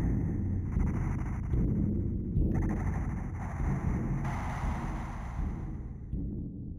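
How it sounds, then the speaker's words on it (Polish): Exit sound from the Roblox horror game Rooms, a dense, low rumbling roar that swells and churns continuously, loud and enveloping with no voices. "To jest dźwięk wyjścia."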